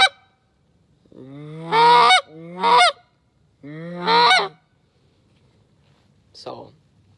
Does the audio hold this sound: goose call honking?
yes